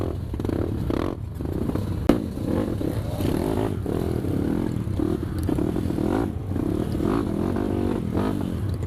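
A Kawasaki KLX dirt bike, newly revived after a year idle, runs on a rain-wet trail at Parangloe, its engine burbling and revving unevenly, with clattering and scraping along the way and a sharp knock near the middle.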